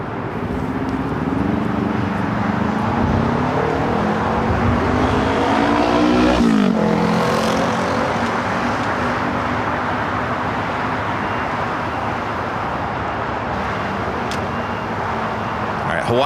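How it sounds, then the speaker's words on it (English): A Hawaiian Airlines airliner taxis at LAX and turns onto taxiway Lima, its engines giving a steady, loud roar with a shifting whine as it swings around, and a voice talks over it. "Hawaiian Flight 10 making that left-hand turn onto Lima"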